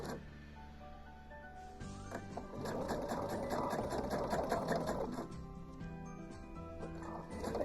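A sewing machine stitching a gentle curve on quilt blocks, steady rapid whirring and clatter in a continuous run of several seconds, fairly close, with a short slower start before it settles into full speed.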